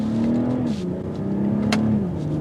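The 2021 BMW X3 M40i revs steadily in first gear in manual mode, its engine and exhaust holding a smooth, loud drone that dips slightly in pitch and then settles again.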